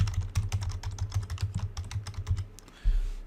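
Fingers type rapidly on a computer keyboard in a dense, close run of clicky keystrokes, ending with a heavier thump.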